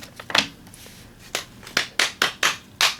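Hand claps, about eight sharp separate slaps in an uneven run, a few quick together and later ones spaced roughly evenly, close and fairly loud with no talk.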